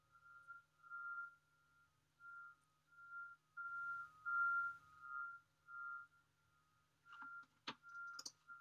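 A garbage truck's reversing alarm outside during trash collection, a faint, distant series of evenly spaced electronic beeps repeating about every second, with a few clicks and a brief rustle near the end.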